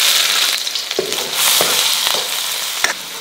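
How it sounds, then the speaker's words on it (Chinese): Scallions and ginger sizzling as they drop into hot oil in a pot, a steady loud frying hiss with a few sharp crackles and stir-scrapes over about three seconds, no voices. "锅里倒点油， 葱姜下锅"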